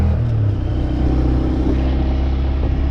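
A Honda Grom motorcycle accelerates with a loud, close, continuous low engine drone and buzzing rumble over a few seconds.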